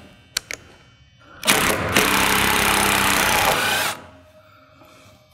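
A power drill drives a screw back out of a roof-framing ridge board, a steady whir of about two and a half seconds with a small stutter near the start, loud and close. Faint clicks come before it and quiet handling sounds follow.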